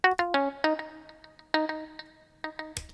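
A funky Stratocaster-style guitar lick runs through an amp and big room reverb, with crisp plucked stabs and syncopated notes that ring out and blur into a roomy tail between hits.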